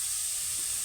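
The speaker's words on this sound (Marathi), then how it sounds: "आता हा कांदा छान तेलामध्ये आपण परतून घेणार आहोत" Onion sautés in oil for pav bhaji, a constant bright hiss of sizzling fat heard up close, steady and unbroken for a brief moment with no voices.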